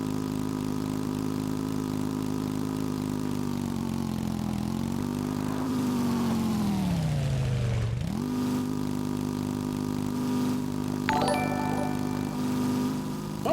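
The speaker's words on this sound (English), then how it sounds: "I hear another motorcycle" A motorcycle engine in the space survival game Empyrion Galactic Survival hums steadily and close, its pitch swelling, dipping low around the middle and then settling back into a constant drone, with a brief bright chime near the end.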